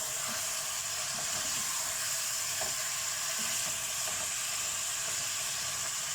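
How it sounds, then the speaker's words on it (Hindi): Mutton and onions frying together in a pan, a steady loud sizzle and hiss with faint scrapes of stirring, close up and without any voices. "इसमें हम ये ऑनियन ऐड करेंगे। ऑनियन को अच्छे से मिक्स करना है।"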